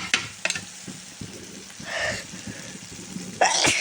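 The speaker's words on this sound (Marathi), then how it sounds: "गॅस बारीक करून असं परतून घ्यायचं आहे" Eggplant mash with turmeric and salt is sautéed in a pan over low gas, a gentle sizzle broken by sharp spatula knocks and scrapes, close up with no talking.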